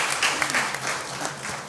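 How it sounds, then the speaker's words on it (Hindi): Brief, steady applause rises from a seated audience at a panel discussion on media freedom, many hands clapping at moderate volume for under two seconds, with a faint voice underneath. "मैं चाहूँगी एक बार तालियों के साथ उनका स्वागत किया जाए।"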